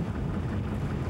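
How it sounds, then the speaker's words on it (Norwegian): Wind rushing over a Grimstadjolle sailing dinghy during a 1992 class championship race, a steady broadband roar with mic buffeting and water noise, no voices. "Vinden har friska på litt."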